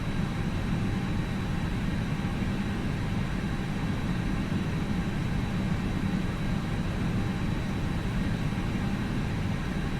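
An FsLabs A320 jet taking off on the runway in a flight simulator, a steady, dense engine roar that holds loud and even throughout.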